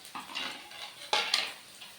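Crushed ginger, garlic, chilli and ground spices fry together in a pan. A utensil scrapes and clinks quickly over a faint sizzle, close by and with no talking.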